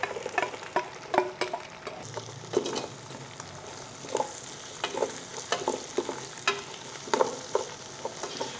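Garlic and onions sauté in a pan for home-cooked beef pares, with steady sizzling frying and repeated utensil stirring scrapes, close and moderately loud, no talking.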